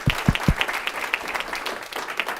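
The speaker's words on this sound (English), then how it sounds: "Let's give one more round of applause for all of our students." Applause for students at a board of education meeting, with a few close, sharp claps at the start and then a dense patter of audience clapping that carries on evenly to the end.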